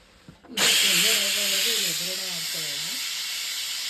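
A pressure cooker of boiled chickpeas, just taken off a gas stove, vents steam in a loud sudden hiss that starts abruptly and holds steady, with a faint wavering whistle riding on it through the middle.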